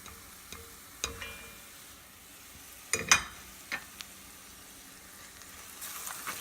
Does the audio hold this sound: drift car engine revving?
no